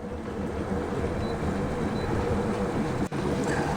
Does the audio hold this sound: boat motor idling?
yes